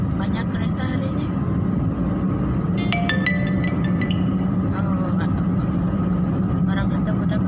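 A road busy with car traffic gives a steady low engine rumble and passing vehicle noise. People talk over it, and a few short tonal chirps stand out midway.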